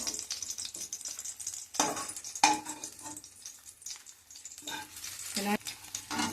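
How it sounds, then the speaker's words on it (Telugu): Gongura leaves sizzle steadily in a pan for Andhra-style gongura sesame chutney, with quick, close scraping stirs cutting through the frying noise at irregular moments. "ప్లేట్లో తీసుకుని గోంగూర వేసుకున్నాం అండి"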